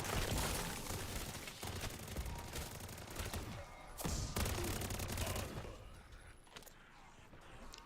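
Rapid sustained automatic gunfire in MW3 Zombies, dense loud bursts that ease off toward the end with scattered shots and mechanical clatter.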